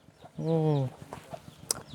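A rooster gives a short, loud crow-like call amid scattered clucks and scuffling from fighting chickens, with voices in the background.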